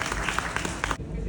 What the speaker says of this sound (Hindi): ताली बनती है।